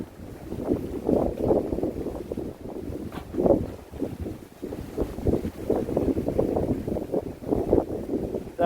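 Strong wind buffets the microphone at a salt farm at low tide, a steady rough rumble with repeated gusty surges throughout, loud and close, with no voices.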